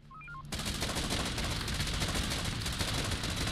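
Dense, sustained gunfire in the video game Infection Free Zone, a loud, continuous rattle of rapid shots that starts abruptly after a short chime of rising tones and holds steady to the end.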